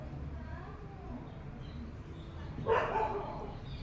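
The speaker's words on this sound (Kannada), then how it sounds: "ನಿಮ್ಮ ಫ್ರೆಂಡ್ಸ್ ಬೊಗಳ್ತವ್ರು ನೋಡಿ" Dogs bark a short distance away: one sharp bark stands out over low background noise, and a person speaks quietly nearby.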